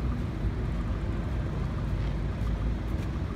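A large Chemnitz tram rumbles past on the street, a steady low roar of motor and wheels heard close by, with no talking over it.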